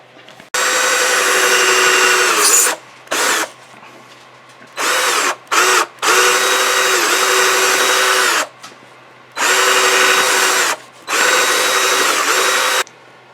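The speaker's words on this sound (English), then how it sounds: "we're going to drill a hole, and we're going to drill the hole right here" A power drill whirs loudly in several bursts, drilling a hole in wood, starting and stopping with short pauses in between, close up and with no talking.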